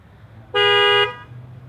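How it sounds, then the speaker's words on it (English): A single loud, steady horn blast from a 2017 Nissan Pathfinder SL panic button lasts about half a second, then cuts off, leaving a low idle hum. "Yeah, it's a loud horn."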